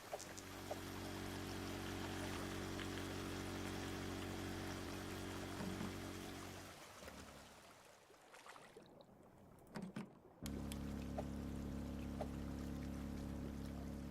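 Water pours steadily from a hose to lower a water level, a continuous rushing flow that drops out for a few seconds midway and then resumes at the same strength.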